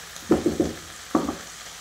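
Mixed vegetables fry in a pan with a soft, steady sizzle. Three quick stirring clatters come in a row, then one more after a short pause, and no one speaks.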